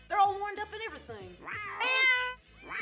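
Several house cats meow in short, rising and falling calls that follow one another closely, loud and near, with a brief caterwauling stretch in the middle.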